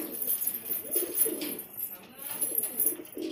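Soft, low cooing from desi and Punjabi flying pigeons repeats in gentle rolling bursts, close by, over a faint hiss of background noise.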